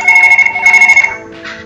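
A phone rings in the Surgeon Simulator video game, loud and close, with a warbling electronic trill in quick pulses for about a second before trailing off into a softer chime.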